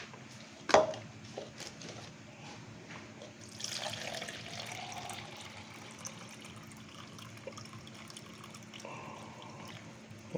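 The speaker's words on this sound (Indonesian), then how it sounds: "Nah, ini saya tambahkan lagi ya airnya." Water poured from a tap into a homemade dish soap mixture, a soft continuous splashing and trickling that swells after a sharp knock early on, steady and fairly quiet with no talking.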